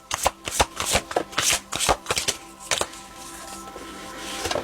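Tarot cards are shuffled close by in a quick series of crisp riffles and slaps, the flurry fading into quieter handling as the cards are drawn.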